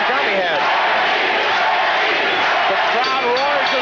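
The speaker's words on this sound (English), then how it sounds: "The crowd roars as one for Benny the Jet" A packed arena crowd roars continuously for kickboxer Benny "The Jet" Urquidez during his fight against Tagami, a loud, sustained wall of cheering and yelling heard close up, with voices shouting within it.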